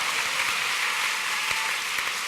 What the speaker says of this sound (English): So more applause.